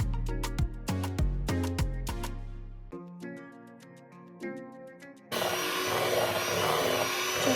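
Cream cheese and powdered sugar being mixed together for a pumpkin Thanksgiving dessert: after a stretch of tonal music-like notes, a loud, steady whirring mixing noise starts abruptly and runs to the end.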